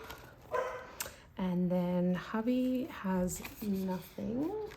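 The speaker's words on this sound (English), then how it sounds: "Sorry if you can hear my dog barking." A pet dog barks and whines indoors in several short, tonal yips, fairly close, partly overlapping someone speaking in a home setting.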